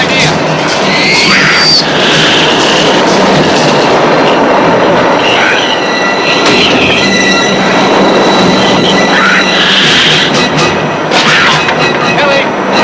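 Train rolling on rails with squealing wheels, loud and continuous, rumbling close by with occasional metallic screeches.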